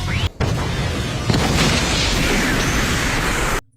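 A giant snake exploding in an anime fight scene, a heavy sustained blast and rumble after a short opening hit, cutting off abruptly near the end.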